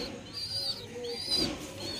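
Soft cooing from home-loft pigeons, several low warbling calls repeating over two seconds, close and moderately loud with no talking.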